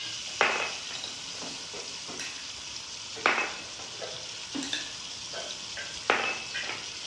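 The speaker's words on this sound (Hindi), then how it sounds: "ये देखिए, हमारा मसाला भून रहा है।" Masala spices frying over a very low flame in a pan for kabab handi, a soft steady sizzle broken by several sharp scraping stirs of a utensil against the pan.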